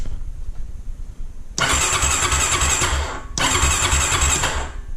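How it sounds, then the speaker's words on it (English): A 2000 Honda Rancher 350 ATV engine cranks on a newly installed starter in two loud, close bursts of whirring, each lasting almost two seconds, with a short pause between them. "the starter is installed, so we're going to give it a test here and see what happens."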